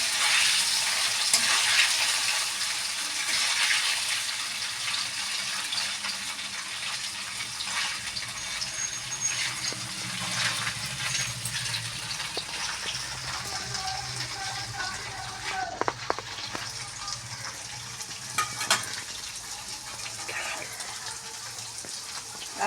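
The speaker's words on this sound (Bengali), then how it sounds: "পনিরটাকে একটু লাল লাল করে ভেজে নেব।" Paneer pieces fry in hot oil with a steady sizzle, some stirring clatter and a few sharp knocks toward the end, in a kitchen with faint background sounds.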